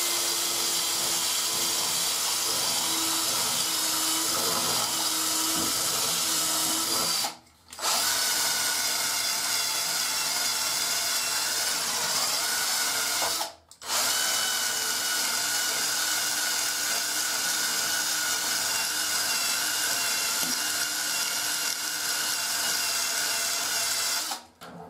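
A power drill whines loudly and continuously, boring into shower tile, with two brief pauses where the motor stops before starting again.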